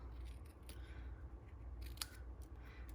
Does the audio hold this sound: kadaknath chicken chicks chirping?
no